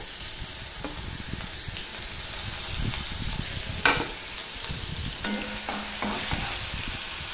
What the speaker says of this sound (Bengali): দেখো বন্ধুরা পেঁয়াজ বাটা রসুন বাটাটা লাল লাল করেই ভাজা হয়ে গেছে